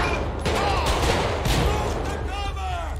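Gang shootout in GTA 5 with overlapping gunfire under a tense, noisy mix, shots blurred together rather than crisp, while voices talk throughout.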